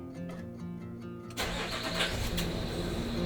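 A Land Rover Discovery 3 engine cranks briefly and catches, jumping into a loud, rough running rumble that settles into a steady idle close by.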